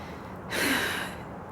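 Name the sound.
heavy breathing, out of breath from deep snow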